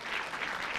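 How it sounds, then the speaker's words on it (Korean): Audience applause at a Korean church mentoring talk, a brief continuous wash of many hands clapping at moderate distance, steady and even throughout. "이럴 때 박수 한번 쳐주셔도 좋은데"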